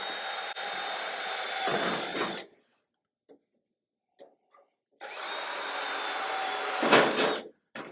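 A power drill with a small, sharp bit runs in two sustained bursts during fabrication of a custom vehicle roof, a steady whine near the mic separated by a silent pause with faint knocks.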